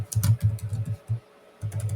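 Rapid clattering keystrokes on a computer keyboard, typed in quick bursts with a brief pause before the tapping resumes, close and fairly loud with no talking.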